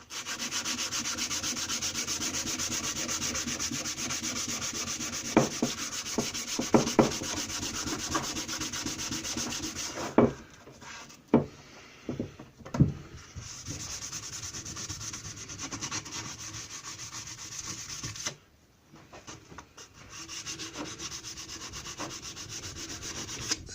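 Abrasive paper sanding and polishing an axe head meant for softwoods, a steady close raspy rubbing that runs almost throughout, broken by a few sharp clicks and two brief pauses.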